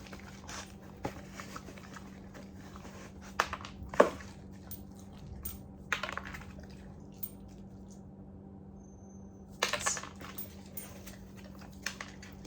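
A dog noses around in a scent-work box to pull out a treat, making soft intermittent rustles, crunches and taps close by, with a steady low hum underneath throughout.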